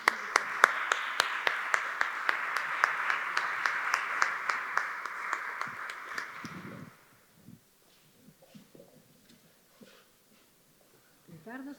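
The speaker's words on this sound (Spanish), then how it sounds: "Vamos a dar un gran aplauso a nuestra siguiente mesa" An audience at a round-table panel discussion gives lively clapping for several seconds, distinct sharp hand claps over a steady patter, then it stops abruptly and quiet room noise with faint rustling follows.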